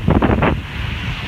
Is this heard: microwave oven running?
no